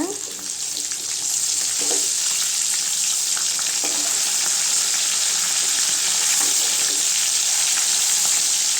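Fish steaks sizzle steadily in hot oil in a pan for a Tamil-style spiced fish fry, with a continuous bright hiss and a few soft scraping knocks as the pieces are turned.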